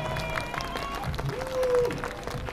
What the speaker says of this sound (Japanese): ラックサンダーにもう一度拍手お願いします。